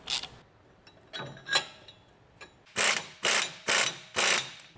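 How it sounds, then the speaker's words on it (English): A ratchet wrench tightens U-bolt nuts on a Toyota Tacoma rear axle during a lift-kit install, first as a few light clicks, then four loud, evenly spaced ratcheting pulls, close up. "You want to make sure to tighten these down evenly."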